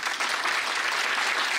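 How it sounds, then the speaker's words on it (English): An auditorium audience at an international conference breaks into steady, dense applause, loud and continuous throughout, with no talk over it. "Big round of applause for you."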